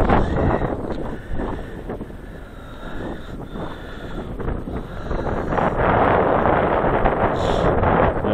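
Wind blows outdoors in extreme cold, a continuous heavy rumbling buffet across the microphone that grows slightly stronger toward the end.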